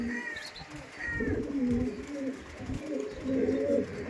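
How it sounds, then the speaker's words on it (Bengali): Domestic pigeons, a male and a female held up by hand, give soft low cooing calls in repeated phrases close by, with faint chirps and a little background murmur. "এটা ছিল নর পায়রা আর এটা ছিল মাদি পায়রা"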